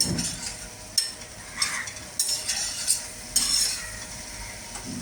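Palak paneer being stirred in a cooking pan, a spoon scraping and clinking against the metal in repeated strokes over a soft steady sizzle, close and fairly loud.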